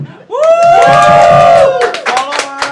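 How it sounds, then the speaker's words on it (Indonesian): A talk show audience erupts in loud cheering, with sustained shouted whoops and voices rising together, then breaking into scattered yells and clapping as the noise tapers off. "tepuk tangan!"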